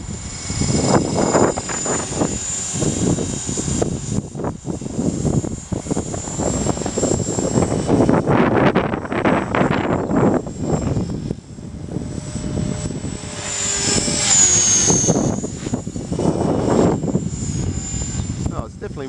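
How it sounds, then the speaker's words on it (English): A Mini Cylon radio-controlled helicopter's rotor whirs and its motor whines steadily under a governor at idle up, while someone talks over it. "It just sounds different the way the helicopter's responding."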